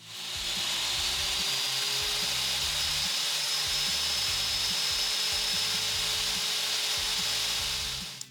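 A table saw cuts a 19 mm (3/4 inch) slot in wood, a steady loud whine with a rough rasping grind held for about eight seconds before stopping abruptly, with no talk.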